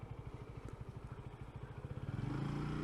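Motorcycle engine struggling and down on power near 4,000 RPM, a close, pulsing uneven chug that climbs slightly in pitch and loudness toward the end.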